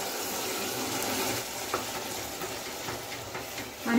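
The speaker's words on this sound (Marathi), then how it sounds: "हे सगळ्या आपल्या हिरव्या भाज्या परतून घेणार आहोत" Green vegetables and a blended green puree sautéing in ghee in a pan, giving a steady close sizzle with a few soft scraping stirs near the end.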